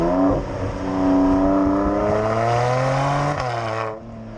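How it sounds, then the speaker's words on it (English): The twin-turbo V6 of a Mercedes C43 AMG estate roars through its factory sports exhaust, climbing through the revs, shifting up once and then fading. The note is loud and close, with no voices. "It's so grunty from the rear, because this has the sports exhaust from the factory."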